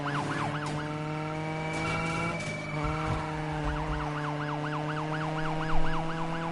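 Police car sirens in the Need for Speed racing game wail in steady, repeating rising-and-falling sweeps over a constant engine drone. A short pause mid-clip is followed by a faster, continuous wail that stays loud throughout.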